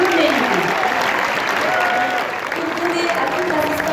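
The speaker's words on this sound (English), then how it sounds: "j'aimerais que vous applaudissiez vous-même," A loud, sustained burst of audience applause fills the closing ceremony of Solar Decathlon Africa 2019, dense clapping from a large crowd with some voices mixed in.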